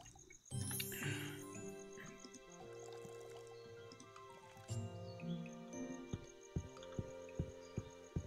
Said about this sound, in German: Dann schnell mal die Pflanzen gießen.